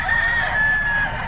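A rooster crows among chickens for sale at a Filipino poultry seller's, the call ringing loud and sustained for over a second against a busy low background rumble.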